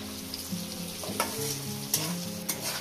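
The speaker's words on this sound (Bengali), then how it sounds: "একটু কাঁচা লঙ্কাটা ভাজা ভাজা হবে" Potatoes and green chilli frying in a pan, a soft continuous sizzle with a few light stirring scrapes, close but fairly quiet, no voices.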